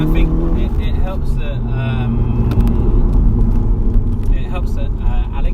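A tuned 400bhp Skoda Octavia vRS driving on the road, its engine giving a steady, throaty rumble with rising and falling revs, while people talk over it inside the car.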